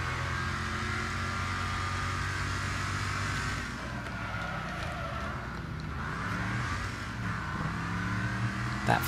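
Engines roar in a three-lap banger race in the Wreckfest video game, a continuous loud car drone with revving shifts and a brief rattling bump near the end.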